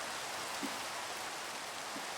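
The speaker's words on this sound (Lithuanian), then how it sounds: "Bet čia lyja, o čia ne" Steady rain falling in the Minecraft video game, an even, dense hiss of rainfall with no other sounds over it.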